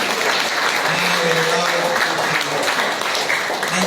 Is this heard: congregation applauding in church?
yes